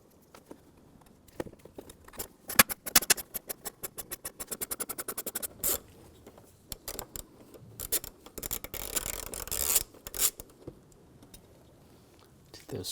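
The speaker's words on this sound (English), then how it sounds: "Take these screws out." Screws come out of the mass airflow sensor on a 2004-2009 Audi A4 Quattro 2.0L with a T20 tamper-proof Torx socket, making close, quick ratcheting clicks in bursts and a few scraping handling noises.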